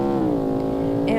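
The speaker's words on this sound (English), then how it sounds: "let's see if we can do a burnout" A car engine in BeamNG.drive revving hard during a burnout, a loud, steady droning roar with rising pitch, filling the moment with a voice talking over it.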